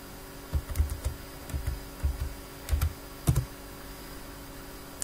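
Several short bursts of keystrokes on a computer keyboard, quick clustered clicks separated by brief pauses, close and fairly quiet.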